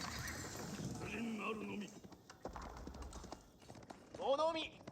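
Horsemen trot across the battlefield in Age of Empires 4, light rhythmic clip-clop of hooves mixed with game effects, a neigh and a shout near the end, while a commentator talks over it.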